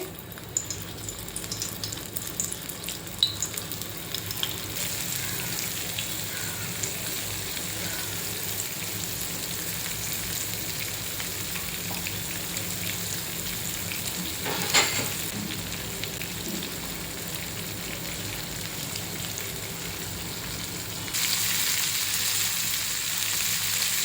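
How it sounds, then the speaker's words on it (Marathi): Steady sizzling of semolina- and rice-flour-coated prawns frying in hot oil on a griddle, continuous and even throughout, with no voices. "कोलंबी कोळवून फ्राय करायला टाकायची तव्यावर"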